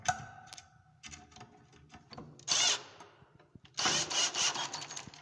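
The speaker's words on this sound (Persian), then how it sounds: "پیچ این طرف هم میبندم." A power drill drives screws into a closet drawer rail, two short whirring bursts close by, separated by faint clicks and handling knocks.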